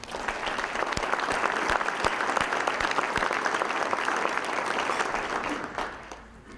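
An audience applauds a retiring police chief for 20 years of service at a village state address, sustained steady clapping with a few sharp louder claps, fading out near the end.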